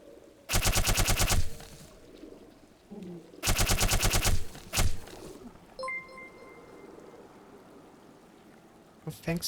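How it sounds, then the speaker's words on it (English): Gunfire in the video game Black Mesa aimed at barnacle creatures comes as two loud, rapid automatic bursts, each about a second long, followed by a single shot, some metallic clinks and a final short burst near the end. "Let's shoot them one by one."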